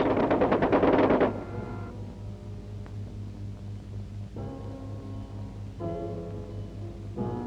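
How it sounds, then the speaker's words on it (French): An AMX-13 tank machine gun, firing at about 600 rounds per minute, lets off a loud rapid burst at the start, followed by quieter rattling stretches over a steady low engine hum. "Il tire à la cadence de 600 coups pièce minute."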